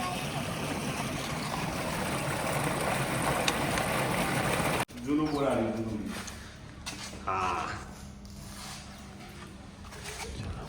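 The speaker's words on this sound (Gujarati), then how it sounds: "ત્યાં એટલે પાણી હાલ જાય જ છે બોરમાં" Borewell water rushes steadily through an irrigation channel on a farm for several seconds, then cuts off and a person speaks close by over a quieter background.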